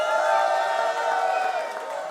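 A crowd at a French festival awards ceremony cheers and whoops loudly as two organisers are introduced, a sustained roar of applause with no talk over it.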